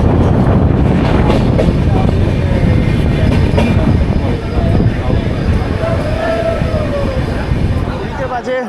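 The 18047 Amravati Express runs along the track with a loud, continuous rumble and clatter of wheels and wagons, plus wind buffeting, heard close up from on board the train.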